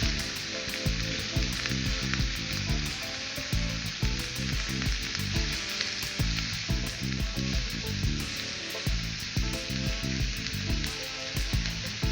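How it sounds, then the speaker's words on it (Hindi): Onions sauté in a pan, giving a steady, close, loud sizzle broken by the regular scrape and clatter of stirring, with no voices. "प्याज को हमने ब्राउन नहीं करना है, इसको हमने सिर्फ सोते करना है ताकि ये बस थोड़ा सा नरम हो जाए।"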